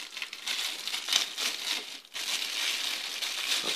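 Crinkling and crumpling of plastic wrapping as a package of folding silicone funnels from AliExpress is opened, a steady close rustle with a brief dip partway through and no talking.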